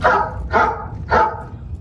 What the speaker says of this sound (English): you have a dog bark on the phone